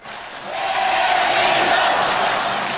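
Football fans in a packed World Cup stadium in Korea during a match against Spain roar together, a loud crowd swell rising quickly and sustaining in a broad wash of cheering.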